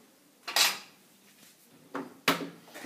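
A wooden spoon knocks and scrapes against a bowl while mixing protein meringues, giving a few separate clacks and clinks at close range with quiet scraping between them.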